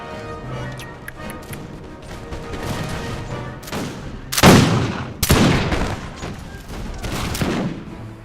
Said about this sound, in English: Shooting at them.